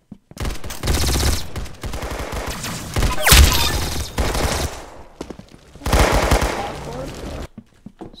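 Rapid gunfire from the DB weapon in the Roblox game Arsenal, loud bursts of repeated shots in several long volleys with short gaps between them.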